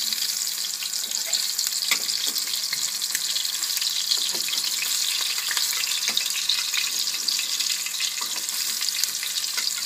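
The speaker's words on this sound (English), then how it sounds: "Be very gentle in cooking these." Chicken and apple patties gently frying in a pan, a continuous close sizzle with small crackles and occasional light scraping as they are moved around.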